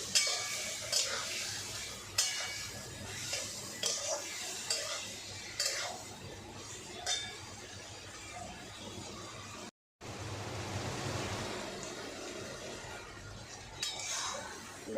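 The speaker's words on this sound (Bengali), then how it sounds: "আর হলুদ এবার ভালো করে মশলাটা কষবো" Spice paste with turmeric being stirred and fried in a pan, with steady clinks and scrapes of a utensil against metal over a soft sizzle, close and moderately quiet, briefly cutting out partway through.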